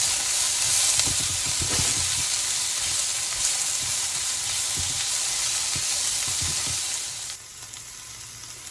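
Egg-white scramble with spinach and tomatoes frying in olive oil, a steady close sizzle with occasional stirring clicks that continues for about seven seconds, then drops to a quieter hiss near the end.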